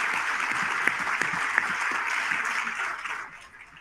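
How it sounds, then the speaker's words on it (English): Audience applause at an evening leadership awards celebration, a dense, steady round of clapping that holds evenly for about three seconds before fading away. "let's have a big round of applause for our extraordinary leaders"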